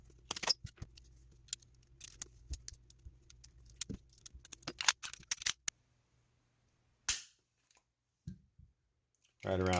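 Metallic clicks and light rattles of parts being handled while a trigger spring goes into an Archon Type B pistol: close, sharp taps in irregular bursts, then near silence with a couple of isolated clicks and a brief noise at the end.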